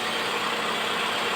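A freshly overhauled Toyota Camry 1AZ engine runs at a steady idle, a continuous close hum and whir with an even level and no talk over it.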